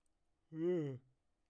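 A single drawn-out yawn, voiced and sliding slightly in pitch, rising and fading over about half a second, close and fairly quiet against near silence.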